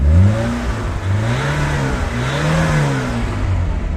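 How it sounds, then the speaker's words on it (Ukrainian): An idling car engine is revved repeatedly, rising and falling in pitch with each throttle blip, loud and close, with no voices over it. "Кажуть, що треба газувати, коли на холостих не показує, чи дим є, чи нема."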